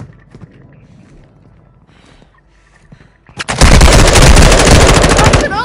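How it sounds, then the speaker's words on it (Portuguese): Automatic gunfire in a Call of Duty match bursts in loud and sustained after a few seconds of quiet game ambience, a dense continuous rattle of rapid shots that carries to the end. "Tá atirando em mim."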